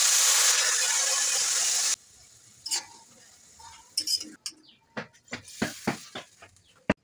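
Water poured into a pan of fried kechki fish gives a loud, close hissing rush for about two seconds, then stops; afterward come irregular quieter scraping and clinking stirring sounds.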